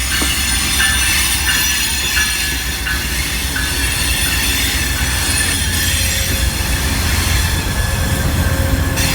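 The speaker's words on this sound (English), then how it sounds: "the Starlight departs back on its way to King Street Station in Seattle" An Amtrak Starlight passenger train headed by P42DC locomotives pulls out of a station, a loud, constant rumble of rolling cars with metallic wheel squeal and clatter, close by throughout and no voices.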